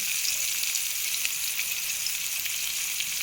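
Onions and green chillies frying in turmeric-tinged oil for an Andhra egg curry, a steady close sizzle with a faint crackle running unbroken throughout, no voices.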